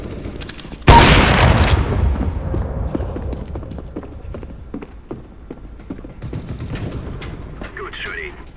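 Gunfire crackles in the game CS:GO on the Train map during team deathmatch, a loud burst of rapid shots followed by scattered, fading single shots and footsteps.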